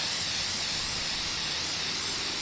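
Steady aerosol hiss of oil being sprayed onto a K&N air filter in a garage, a continuous close spray with no pauses.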